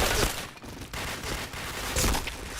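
Gunfire in the online shooter Point Blank, a continuous barrage of rapid shots and fusillade bursts that stays loud and dense throughout the short stretch, heard without any talking.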